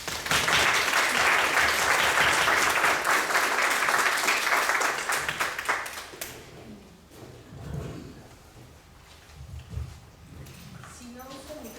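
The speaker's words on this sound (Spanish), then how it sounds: "Recibamos pues con un aplauso" At a university arts teaching conference inauguration, an audience breaks into loud, sustained applause for a speaker. The clapping fades after several seconds into quieter room noise, footsteps and faint talk.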